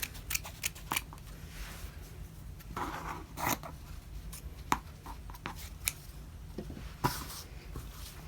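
Scissors cut thin fabric for a sewn Halloween wall hanging, giving a series of close, crisp snips and slides at an uneven pace, with soft rustling between the cuts.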